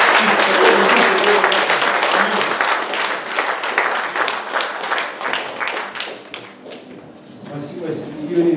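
Congregation applauding during a charismatic church service, a dense, loud wash of clapping that gradually thins and fades toward the end, with some voices mixed in.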